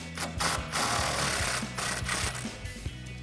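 An impact wrench hammers on a sway bar bolt of a 1994-2004 Ford Mustang, a close, rapid rattling burst of mechanical blows with uneven pulses.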